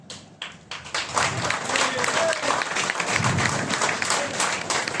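An audience at a network marketing seminar bursts into loud, sustained applause, with dense rapid clapping that rises after the first second and stays strong, with some voices mixed in.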